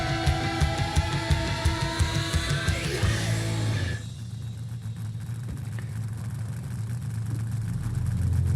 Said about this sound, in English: this thing right here, Ford Focus RS